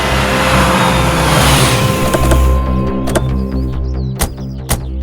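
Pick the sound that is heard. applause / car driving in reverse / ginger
car driving in reverse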